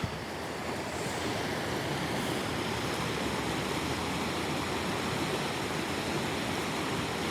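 A waterfall on a nature hike rushes in a steady, dense roar that holds at an even level throughout with no breaks.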